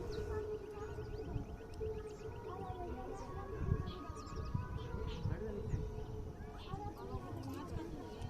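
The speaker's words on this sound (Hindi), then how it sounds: "प्रकृति में समाये पक्षियों की आवाज़, हवा की आवाज़ को महसूस करें" Birds sing and call in open country at Sonagiri while a constant rush of wind and outdoor ambience fills the background, the chirps faint and scattered.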